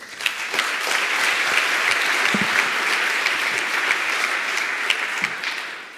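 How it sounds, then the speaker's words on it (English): A lightning-talk audience at PyCon UK 2017 applauds a speaker named Alex: a dense, steady wash of many hands clapping that holds evenly for several seconds before tapering slightly at the end. "Give Alex a big round of applause."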